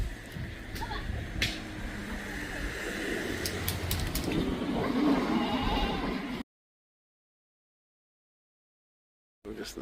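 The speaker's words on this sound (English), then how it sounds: "We've seen the goats, we can move on now." Goats bleat repeatedly over outdoor background noise and faint chatter, then the sound cuts to silence before briefly returning.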